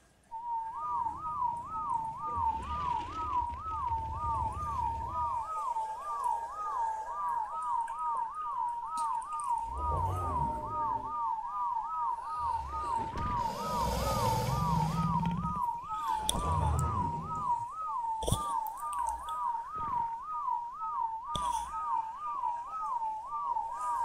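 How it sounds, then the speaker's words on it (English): In ARK, a player's whistle command sounds as a long, steady warbling tone that rises and falls in quick even cycles, with faint rumbling and brief thumps from the game underneath. "Alright, so whistle time."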